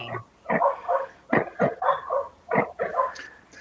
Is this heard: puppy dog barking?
yes